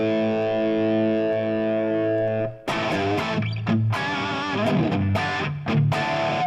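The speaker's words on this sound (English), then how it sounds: "It is let's say a very short reverb and help you to feel the exact effect of the amp in the room." A distorted electric guitar plays through an amp model with a short room reverb on a Fractal unit running firmware 3.02: first a sustained ringing chord, then a burst of choppy, driven riffing, loud and close.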